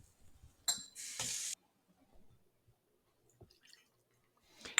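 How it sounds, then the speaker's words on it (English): Water poured from a third-cup measure into a pot while making vegan sweet chili sauce: a short, soft splashy pour lasting under a second, followed by quiet clinks and small handling sounds. "We'll be putting in a third of a cup of water"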